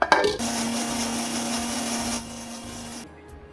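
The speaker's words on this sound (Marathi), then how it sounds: "मिक्सरमध्ये टाकते आता मी, जे बारीक पेस्ट करायची" A mixer grinder whirs at high speed for a few seconds, grinding mango into a fine paste, with a steady motor hum, then winds down and stops after brief clunks.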